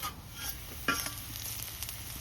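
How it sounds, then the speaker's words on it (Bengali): Garlic fries in oil alongside already fried onion, giving a quiet, steady sizzle with a sharp utensil knock and light scraping as it is stirred. "পেঁয়াজ ভাজা কমপ্লিট এর মধ্যে রসুন দিয়ে দিচ্ছি"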